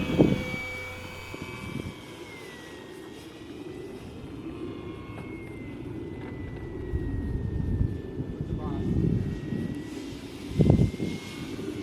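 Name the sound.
E-Flite UMX MiG 15 model airplane in flight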